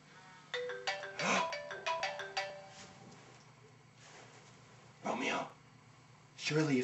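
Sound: phone ringtone of a call

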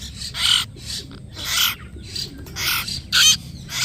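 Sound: hill myna chick calling

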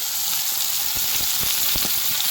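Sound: garlic frying and sizzling in oil

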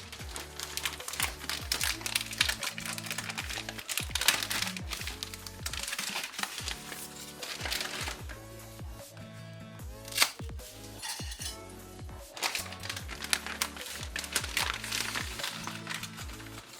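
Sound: dry pasta poured into pots

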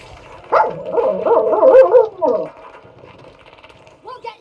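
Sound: dog barking

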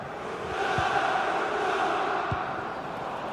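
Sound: visiting fans cheering in video game FIFA 21

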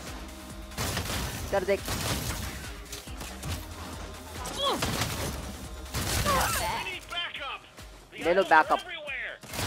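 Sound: gun firing like a shotgun in Saints Row video game

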